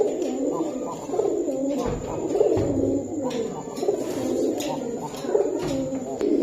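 Pigeons at a pigeon seller's stall coo repeatedly in soft, throaty, rolling calls, several birds overlapping close by in a steady rhythm, with no talk.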